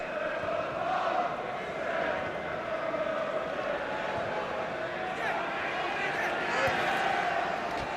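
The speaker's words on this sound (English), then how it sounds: "The supporters currently doing their best to out-sing the Slavia followers" Football supporters at a Slavia Prague versus Aston Villa match singing in the stadium, a steady dense crowd chant filling the background beneath a commentator's voice.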